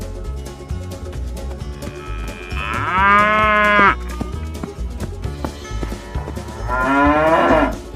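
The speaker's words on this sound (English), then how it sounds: "Cow." A cow moos twice, each call long and loud, over continuous background music in an animated escape-room guessing game.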